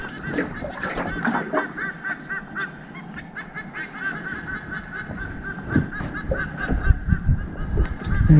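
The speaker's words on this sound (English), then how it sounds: "They're seagulls." Harsh, repeated calls from two seagulls perched in a nearby tree sound close by, one after another in rough succession over steady outdoor background noise.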